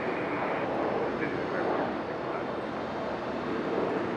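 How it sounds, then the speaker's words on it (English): A Breeze Airways airliner taking off from Raleigh-Durham International Airport sends out a broad, sustained engine roar, steady in level, with faint voices murmuring underneath. "this Breeze Airways is going to head up the hill here"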